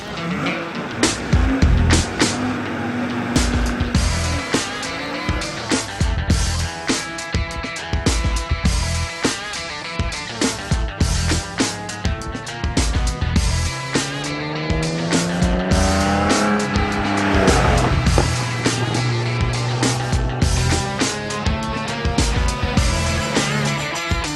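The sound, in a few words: classic cars driving a regularity test on Lignières circuit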